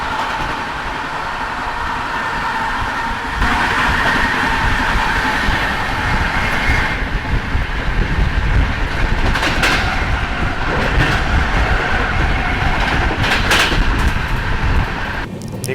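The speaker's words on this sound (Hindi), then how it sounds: "ये अजीमाबाद एक्सप्रेस है, इसको ओवरटेक कर रहे हैं हम।" Duronto Express train overtaking the Azimabad Express: loud, continuous roar and rattle of a fast train heard from onboard, with sharp thuds and clatter from the passing train.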